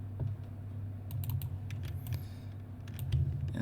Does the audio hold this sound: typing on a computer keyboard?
yes